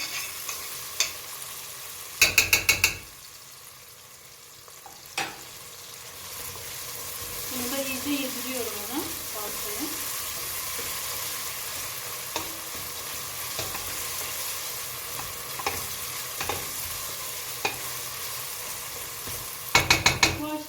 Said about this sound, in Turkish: Yarım kaşıktan az fazla salça ekliyorum